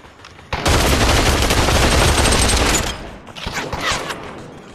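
Pistol gunfire in a team shooter video game: a dense, loud stretch of overlapping rapid shots lasting about two seconds, then scattered fainter pops trailing off.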